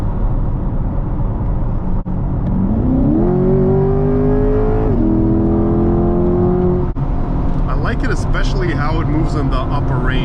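A 2020 Chevrolet Corvette C8 3LT Z51 engine revs up under acceleration, its pitch climbing steadily and then holding before easing off, loud and close, with a brief shift break and a steady interior drone beneath.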